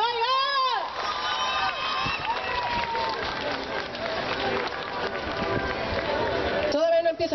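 A fair audience in Tepeapulco cheers and applauds for a Jenny Rivera impersonator, dense crowd noise with shouts lasting several seconds, bracketed by someone talking at the start and end.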